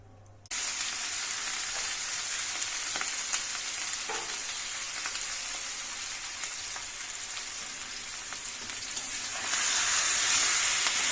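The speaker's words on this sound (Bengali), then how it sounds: "একদমই দম কমানো আছে, এইভাবে মাংস এবার এখানে দমে ভাজা হতে থাকবে" Meat for biryani frying on low heat under dum makes an unbroken crackling sizzle that runs steadily throughout and grows slightly brighter and louder toward the end.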